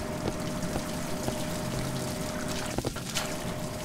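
Shower water running in Bioshock Infinite, a steady, soft hiss of spraying water with faint trickles and a couple of light clicks, continuous and fairly quiet.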